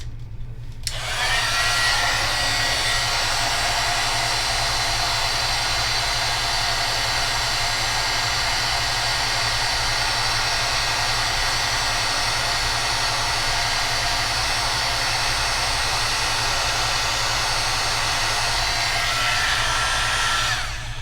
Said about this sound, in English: your heat gun is what you're going to need, and you're just going to heat it. And I like to heat mine from underneath.